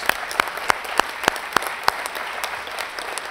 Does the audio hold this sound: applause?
yes